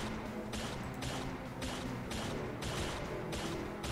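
Dense, continuous gunfire in the zombie video game ZHIVE, an enemy shooting zombies, with a steady clatter of rapid bursts and impacts over a busy, loud game mix.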